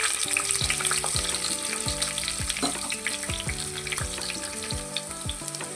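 Cumin, onion and curry leaves crackle in hot oil for a tempering, a bright continuous sizzle heard up close under steady background music with a gliding, rhythmic bass line.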